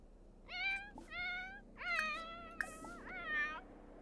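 Cats in The Sims 4 Cats and Dogs meow five times in close succession, clear and fairly near, each a drawn-out, tonal call.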